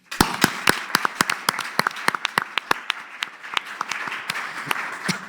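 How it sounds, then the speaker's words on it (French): An audience applauding at a civic event in Poitiers, with sharp, distinct hand claps close by, scattered and uneven, and a steady murmur of clapping underneath. "je vous propose qu'on applaudisse Léonore Monconduit."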